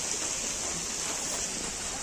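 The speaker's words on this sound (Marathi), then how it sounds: "जोरात पाऊस चालू" Heavy rain pours over farm fields during the monsoon, a steady dense wash of hiss and patter that stays loud and unbroken throughout, with no voices.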